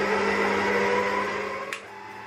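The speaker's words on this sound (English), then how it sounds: "I'm just stopping the mixer for a moment to scoop in all the excess from the edges" An electric mixer whirs steadily while beating icing sugar for vegan piña colada cupcake frosting, a constant close motor drone that slows and stops near the end.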